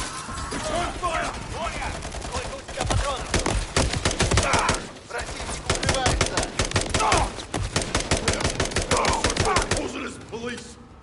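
Rapid automatic gunfire from Call of Duty: Modern Warfare 3 rattles in loud, dense bursts almost nonstop, with a brief lull midway and shouted voices mixed into the combat.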